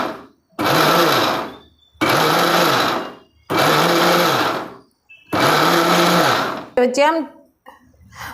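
A kitchen mixer grinder crushes raw peanuts for ladoo in four loud, close bursts of roughly a second each, started and stopped with short pauses between them, followed by brief speech at the end.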